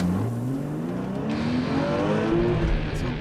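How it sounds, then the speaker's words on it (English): A car races at 120 miles an hour across wet, rainy tarmac on a test track, a loud, steady roar of spray and tires with a rising engine tone beneath. "going to take this run at 120 miles an hour across the rainy tarmac"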